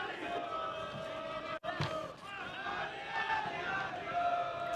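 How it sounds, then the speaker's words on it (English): Crowd noise from Taunton Town football fans in a stadium during a non-league match, a steady roar of chanting and shouting with one sharp slam partway through. "we're hearing the noise of the Taunton fans here"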